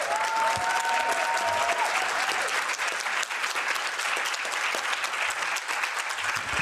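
An audience at an anti-racism and diversity week event applauds after a talk, a dense, even patter of many hands that runs unbroken for several seconds, with a brief tone sounding early on.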